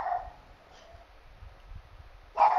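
A dog in a PUBG match barks in short, faint yelps at the start and end, with soft whimpering sounds in between.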